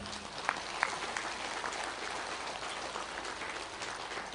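Audience applause in a hall at a spiritual discourse, a steady wash of many hands clapping at moderate distance, with a couple of sharper claps standing out early on.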